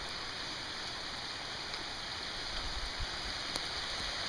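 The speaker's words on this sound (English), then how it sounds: "Rain's pretty light right now." Light rain falls steadily on a farm during Tropical Storm Tomas, an even continuous hiss of drops with a faint low rumble of running water, no voices.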